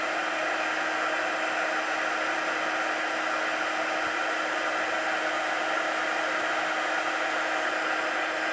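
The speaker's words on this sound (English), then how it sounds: "You see the embossing powder melting." Heat tool blowing hot air while melting embossing powder for a faux wax seal, a steady, even whooshing hiss with a constant motor hum, continuous and close, with no talk.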